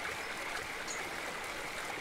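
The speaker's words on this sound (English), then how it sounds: "walk by the stream" A stream flows in the Eastshade video game, a steady, full rushing babble of water heard close and continuous, with no voices.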